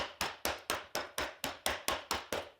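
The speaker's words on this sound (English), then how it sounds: "I'm just going to give it a little tap" Wooden dowels being tapped into place with a hammer, ten evenly spaced sharp knocks in steady rhythm, close and clear with no talking, while building a lantern.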